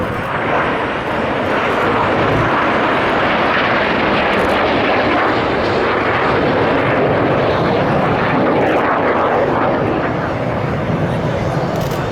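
Red Arrows jet aircraft flying a formation display with a left-hand turn, a loud continuous engine roar sustained throughout, with a commentator's voice faintly under it.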